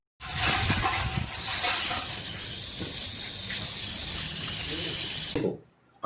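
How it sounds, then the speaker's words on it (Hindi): Water gushes steadily from a tap or hose to soak wheat straw spread on a floor or black polythene sheet for button mushroom compost, a loud broadband rush lasting several seconds before cutting off. "गेहूं के भूसे को फर्श पे या काली पॉलीथीन की चादर पे फैला के उसको अच्छी तरह से भिगाएं।"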